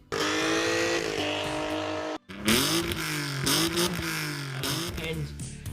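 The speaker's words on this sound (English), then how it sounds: "Will make that BMW 6-cylinder sound so sweet." A BMW six-cylinder engine fitted with a simple exhaust revs hard, its smooth rising and falling engine note loud and close, with a short break before a second run of revs.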